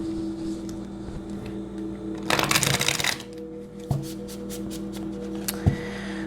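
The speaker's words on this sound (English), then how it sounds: "So let me get this shuffled a little bit." A new, slightly sticky deck of tarot cards is shuffled by hand, with a burst of riffling rustle in the middle and a few soft taps and clicks around it, close and quiet.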